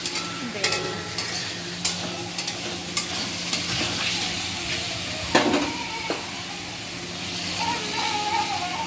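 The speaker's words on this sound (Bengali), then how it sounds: "এখন আমি বেগুনগুলো দিয়ে দেবো ভেজে রাখা বেগুন" Fried eggplant goes into a sizzling hilsa fish curry, with a loud, continuous hiss, repeated clinks and scrapes from a stirring utensil, and a brief burst of louder sizzle partway through.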